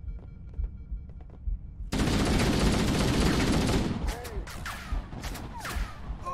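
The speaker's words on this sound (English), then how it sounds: "half of the bullets aren't even hitting him because it's the assault rifle" Assault rifle gunfire in the Halo CE campaign on Legendary: a few quiet taps lead into a sudden loud continuous burst of automatic fire lasting about two seconds, followed by scattered game effects and chirps.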